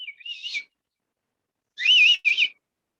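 An audience at a Tamil Nadu business award event gives two bursts of shrill whistling to welcome a speaker, a short one followed by a louder, longer whistle after a pause, with no talk.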